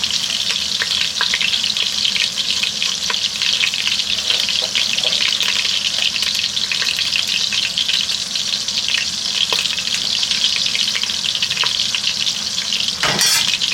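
Flour and butter roux sizzling steadily in a Dutch oven, a continuous close frying hiss with occasional soft stirring scrapes, no talking.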